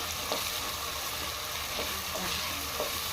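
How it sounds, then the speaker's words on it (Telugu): Green chillies stirred into hot frying oil for vegetable biryani give a steady, close sizzle with a few soft stirring scrapes across the few seconds. "సో ఇలా పచ్చిమిర్చి కూడా వేసుకొని ఒకసారి కలుపుకున్నాము"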